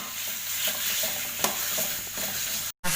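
Chicken being stir-fried in spice paste, a steady close sizzle with scraping stir strokes throughout, ending in a brief cut to silence.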